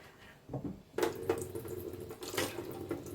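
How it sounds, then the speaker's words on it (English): A kitchen tap runs in short bursts of splashing water while cannoli shells are sealed; the flow starts and stops several times, quiet and close, with small clatters between. "Let me just put a little bit of water."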